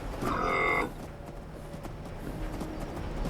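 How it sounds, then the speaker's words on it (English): In the video game Fallout 76, a cow gives one loud, drawn-out moo. Quieter in-game ambience follows. "Just says moo."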